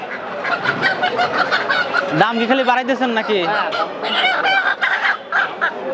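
Native chickens at a market chicken shop cluck and squawk continuously, close and loud, with one rising crow-like call midway, while people talk over them.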